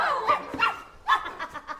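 A dog in The Wizard of Oz film barks and yips in several short, sharp bursts at an uneven rhythm, close and fairly loud.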